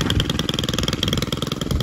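Stihl Kombi 1.3R petrol engine driving a strimmer head fitted with an Oregon mulching blade on dense bramble, a loud, close, steady buzzing drone with rapid regular pulsing and no voices.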